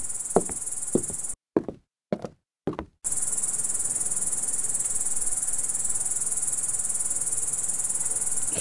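Cricket chirping steadily in a quiet outdoor night setting, a continuous high trill that fills the second half after a few soft knocks and footsteps at the start.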